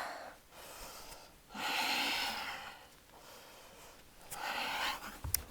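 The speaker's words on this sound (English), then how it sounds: "And your breath be deep." Slow, deep breaths during an active yoga flow, each long inhale and exhale rising and fading in a calm rhythm, close and fairly quiet with no talking.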